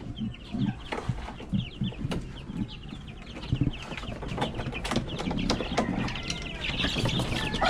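Young chicks of an early batch crowd a coop, giving repeated soft clucks and peeping calls in irregular bursts close by, with shuffling and scratching around them and the activity building toward the end.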